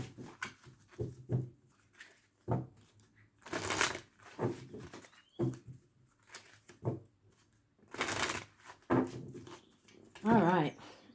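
Tarot cards being shuffled in bursts of papery riffling and soft slaps, close and fairly quiet, with gaps between bursts and a voice coming in near the end.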